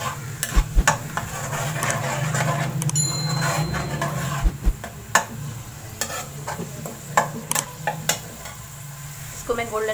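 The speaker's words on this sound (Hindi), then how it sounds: "इसको मैं फ्राई करूँगी, गोल्डन ब्राउन कलर" Sliced onions frying in a pan for a dhaba-style chicken masala, a steady close sizzle under repeated scraping stirs and light clicks of a spoon against the pan, with occasional faint speech.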